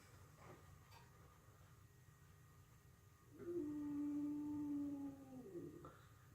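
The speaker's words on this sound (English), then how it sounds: "The dog kind of sounds like a dead cow outside the door" A single sustained dog howl, somewhat muffled as if through a door, rising and holding for a couple of seconds over quiet room noise.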